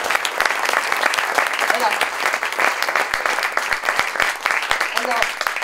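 An audience applauds a guest invited onstage at a science event, steady dense clapping filling the room throughout, with a voice speaking briefly over it.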